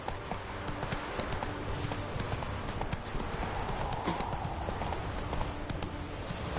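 Roach the horse gallops in The Witcher 3, a steady rapid clip-clop of hooves close by over a constant rushing background, with faint voices in the mix.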